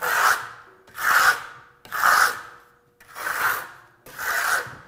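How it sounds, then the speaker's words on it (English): A pool trowel scrapes back and forth across a wet texture coat on a wall, five steady rasping strokes in an even rhythm, close and fairly loud, with no voices. "we're just going to use that to essentially just scrape that off"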